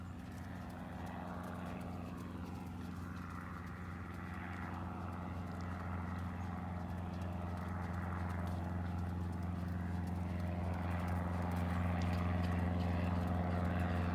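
A horse trots during a riding session, its hooves clip-clopping in a steady rhythm over a constant low background hum.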